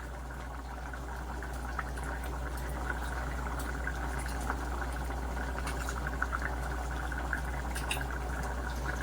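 A pot of tamarind curry with colocasia and egg simmering on low heat, giving a steady soft bubbling hiss with faint small pops, quiet and close, with no talking.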